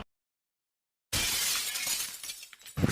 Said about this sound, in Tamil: இங்க கிளாஸ் டம்ளர் கீழே விழுந்து உடைஞ்சிருக்கு